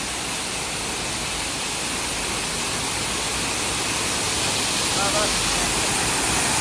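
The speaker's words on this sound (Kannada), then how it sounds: "ಹೆಂಗ್ ಬೀಳಾಕತ್ತ ನೋಡ್ರಿ ನೀರು" Heavy water roars steadily nearby as a waterfall pours down, a dense unbroken rushing sound filling the whole stretch.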